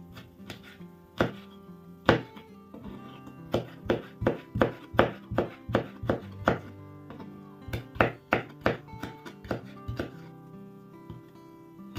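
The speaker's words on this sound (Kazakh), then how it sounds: "Екі қызанағымызды да дәл видеодағыдай етіп турап аламыз." Two tomatoes chopped with a knife produce a series of distinct knife taps on a board, irregular at first and then coming in quick rhythmic runs, close and clear with no talk.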